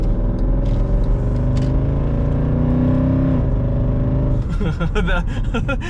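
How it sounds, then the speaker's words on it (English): A 2008 Mercedes-Benz ML63 AMG engine climbs steadily through its revs with a loud, deep droning tone, then drops off throttle into rapid burbling and crackles, heard close. "that noise coming out of an ML is just obscene"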